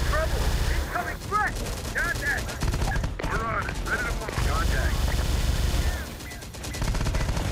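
Rapid-fire shotgun gunfire in the video game Terminator Dark Fate: Defiance. Dense, loud volleys of shots run almost continuously with brief pauses, mixed with other battle noise, while a voice talks over the fighting.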